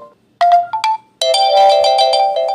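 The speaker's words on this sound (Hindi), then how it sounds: "अगर आप नोटिफिकेशन टोन को बदलना चाहते हैं" A WhatsApp notification tone plays loudly and close: a couple of short bright melodic chimes, a brief gap, then a longer ringing melodic phrase of stacked tones, with no voice over it.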